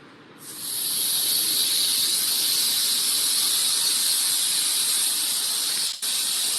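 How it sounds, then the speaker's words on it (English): Compressed air blasts steadily from a nozzle inside an SLS/SLM 3D printer, ejecting parts and powder: a loud, continuous high-pitched hiss that starts abruptly and holds for several seconds, with one brief dip near the end. "So for ejection we need gas, compressed air."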